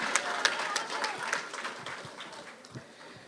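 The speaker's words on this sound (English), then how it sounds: "Give him a tremendous round of applause as well." Audience at a political address by a national leader breaks into scattered applause, close claps fading over a few seconds, with light crowd murmur beneath.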